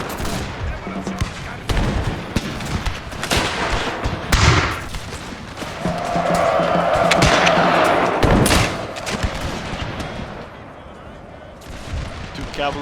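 Point-blank musket volleys in a Total War battle set in the Thirty Years' War, with dense crackling shots layered over roaring battlefield din and a few sharper, louder reports standing out, all under continuous noise.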